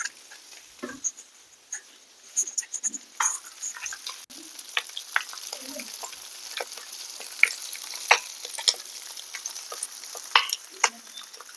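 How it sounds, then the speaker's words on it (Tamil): Fish fillet frying in a hot pan, giving a steady crackle with irregular sharp pops and spits throughout, fairly close and with no voices. "இப்போது மீன் நல்லா வெந்துக்கிட்டு இருக்குது."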